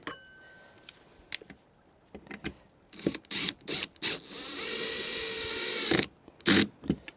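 Marker light screwed into a VW Beetle light assembly, short bursts of a small power driver whirring with clicks and handling knocks between, close and moderately loud.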